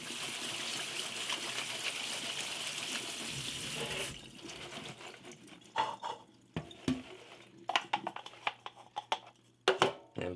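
Water runs from a kitchen tap over canned black beans for about four seconds, then stops, followed by scattered wet clatters, drips and handling knocks of the rinsed beans in a sink.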